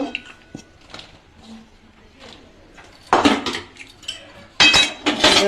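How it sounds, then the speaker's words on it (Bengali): A metal spatula stirs rice flour into boiling water in a pot for puli pitha, giving scattered scrapes and clinks that grow into a few louder bursts of clattering against the pan. "খুন্তি দিয়ে ভালো করে মিশিয়ে নেব"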